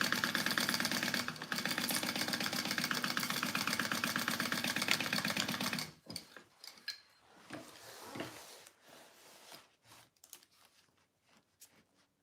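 A sewing machine stitches a seam on a Poppie purse with a fast, rapid, steady whir for about six seconds, then stops and gives way to scattered clicks and handling clatter.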